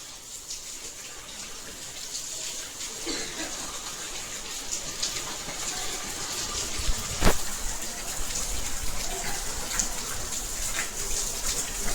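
Steady light rain patters continuously with a soft hiss, a single sharper drip or click standing out midway; no voices.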